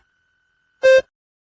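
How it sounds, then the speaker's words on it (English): One clean electronic beep, a short steady tone lasting a fraction of a second, alone in near silence. "Begin to prepare your response after the beep."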